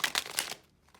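Tarot cards being shuffled in a few quick, close riffling bursts, which stop abruptly and leave near silence.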